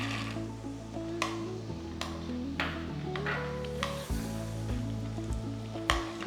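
Raw, unroasted peanuts, about three-quarters of a cup, fry in hot oil for Kerala mixture, a constant close sizzle with occasional sharp clinks of a utensil against the pan and a low steady hum beneath.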